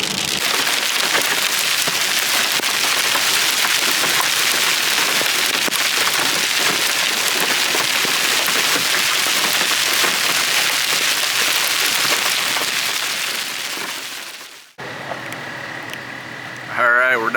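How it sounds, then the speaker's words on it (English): Hail from a strong storm pounds down as a loud, dense, continuous roar for most of the stretch, then cuts out abruptly, leaving quieter background sound and a brief voice near the end. "That's definitely stronger hail."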